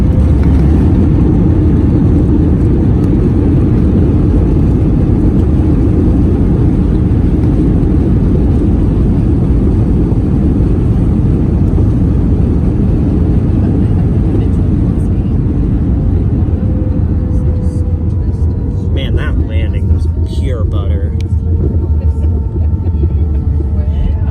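An airplane lands: a loud, steady roar of engine and air noise fills the whole stretch, and a brief voice comes through near the end.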